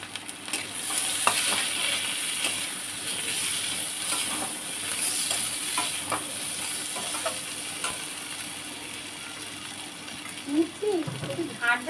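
Potatoes frying in hot oil in a Bengali home kitchen, a steady hiss of sizzling with occasional stirring clinks and a brief louder burst near the end.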